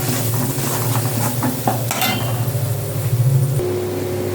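Sliced onions frying in a pan for prawn curry, a steady close sizzle broken by the scrape and clink of a spoon stirring against the metal.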